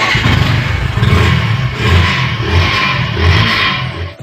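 A new Yamaha FZ motorcycle engine revs up and settles repeatedly, loud and close, with a rising and falling throaty drone and some mechanical clatter.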